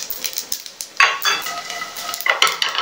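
Makhana fox nuts tossed with turmeric and tomato powder are stirred in a pan, making close, irregular scraping strokes and light rattling bursts over a faint sizzle.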